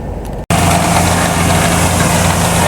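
A well drilling rig engine runs loudly at a data center construction site, a steady droning roar that cuts in abruptly after a brief quieter moment and holds without pause.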